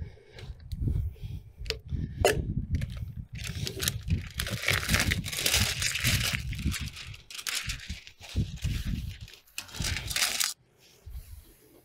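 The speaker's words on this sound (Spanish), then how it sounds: "Voy a agregar mi cinta de viga." Joist tape is applied to wooden deck beams, giving continuous loud crinkling, tearing and tapping noises up close with brief pauses, ending in a quieter tail.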